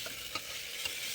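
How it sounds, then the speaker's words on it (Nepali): Masala being stirred and fried in a pan for mutton curry, a continuous soft sizzle with a couple of quick stirring scrapes. "मसला पनि राम्रोसँग चलाएँ।"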